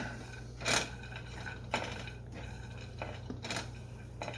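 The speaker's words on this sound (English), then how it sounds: "I'm going to just stir them a little because we don't want to burn them." Toasting nuts being stirred in a pan with a utensil, giving a few separate scraping, clattering strokes against the metal over a steady low hum, with no talking.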